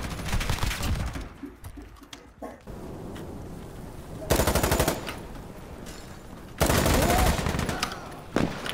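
Video game gunfire: rapid bursts of automatic fire crackle loudly, with sharp separate shots in between and a longer sustained burst near the end. No one speaks over it.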